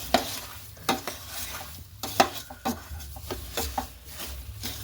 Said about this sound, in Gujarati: ખાંડ એડ કરીને હલાવી જવાનું જ્યાં સુધી ખાંડ મિક્સ ન થાય ત્યાં સુધી હલાવી જવાનું